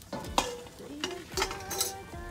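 Tilapia with its scales left on cooks in a pan over medium-high heat, a close sizzle punctuated by several sharp metallic clinks and scrapes of a utensil against the pan.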